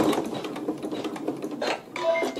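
Sewing machine stitching a seam along a gray basting line, in short soft bursts of needle patter at close range with no talk.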